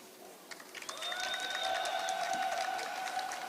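Crowd applauding and cheering at a Best in Show dog show competition in the Philippines, a thin scattering of claps from a small audience swelling slightly, with a whistle-like tone and a faint commentator voice underneath.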